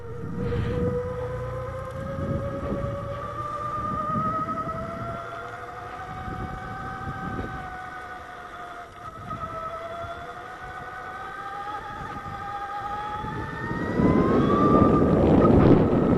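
Brammo Empulse electric motorcycle under way, its motor giving a steady whine that glides upward in pitch as it accelerates, over rushing wind and road noise that swell louder near the end.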